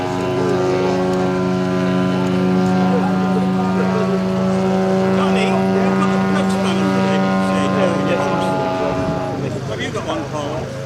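A model aircraft engine at an outdoor air show drones with a steady propeller note that shifts in pitch during an aerobatic roll. Someone speaks over the sustained engine sound.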